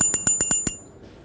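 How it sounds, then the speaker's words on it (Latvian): A bicycle bell on an oversized bike rings in six quick, bright dings over about two-thirds of a second, loud and close, then falls quiet. "un tad ir arī pat zvaniņš"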